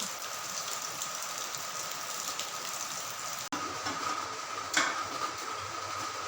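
Steady rain falls outdoors in a Kerala garden, a constant soft hiss with a few brief louder knocks near the middle.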